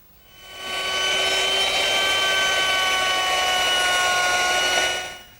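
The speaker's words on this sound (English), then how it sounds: "now I've changed my bit to a 3/8 inch radius beading bit," A router fitted with a 3/8 inch radius beading bit shapes the outside edge of a wooden mirror frame, a steady loud high whine that ramps up, holds for several seconds, then winds down, with no voices.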